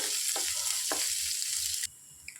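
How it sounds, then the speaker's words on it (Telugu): Onions sizzle steadily in hot oil for a crispy plantain fry, with a couple of brief stirring scrapes before the frying noise drops off near the end; no one speaks. "ఉల్లిపాయలు బాగా వేగేదాకా వేయించుకోవాలి"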